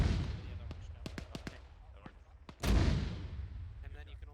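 Artillery firing rounds during a military field training exercise: scattered sharp reports, then one heavy, booming close blast with a rumbling tail. Voices are present.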